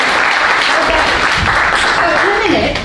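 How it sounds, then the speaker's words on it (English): Audience applause at a live cookery demonstration at an awards event, loud and sustained clapping from a crowd, with some talk mixed in underneath. "Give this lady a round of applause"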